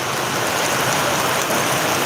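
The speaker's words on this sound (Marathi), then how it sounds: "गेल्या चार पाच दिवसापासून पाऊस चालू आहे मित्रांनो भरपूर असा पाऊस" Steady, heavy rain pours down in a dense, continuous hiss with no voices, filling the whole clip at an even loudness.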